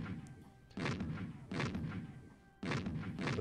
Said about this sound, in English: We're gonna use the other cannon.